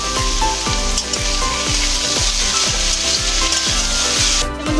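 Boiled potato with spices is stir-fried in a pan for a vegetarian banana-flower chop filling, producing a loud continuous sizzle with a regular rhythm of scraping stirring strokes about twice a second, close up and with no talk.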